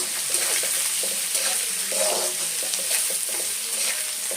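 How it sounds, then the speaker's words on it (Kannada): Onion, green chillies and curry leaves sizzle steadily in hot oil in a pan for rava upma, a loud continuous frying hiss with soft stirring scrapes close by. "ನಾನಿಲ್ಲಿ ಈರುಳ್ಳಿ ಖಾರಕ್ಕೆ ಹಸಿಮೆಣಸಿನ್ಕಾಯಿ ಕರ್ಬೇವಿನ ಸೊಪ್ಪು ಮೂರು ಹಾಕ್ತಾಯಿದ್ದೀನಿ"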